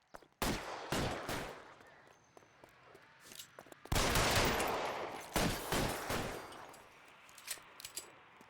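Gunfire rings out in the L.A. Noire video game during an alley chase, loud close bursts of several shots in clusters with sharp cracks and echoing tails, separated by brief quieter gaps.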